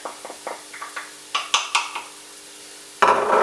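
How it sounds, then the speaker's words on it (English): Spices stirred in a pan for almond chicken curry, with a run of light scraping and clinking taps near at hand, then a louder sizzling burst at the end. "Let's give them a stir around"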